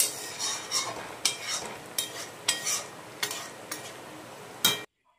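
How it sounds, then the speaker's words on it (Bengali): Chana dal being stirred with spices in a pan, a spatula scraping in a run of distinct strokes against the metal, close and fairly loud, with faint sizzling underneath and a sudden stop at the end. "এবার এই দুটোকে দিয়ে ভালো করে মিশিয়ে নিলাম ডালের সাথে। এবার ভালো করে নেড়ে"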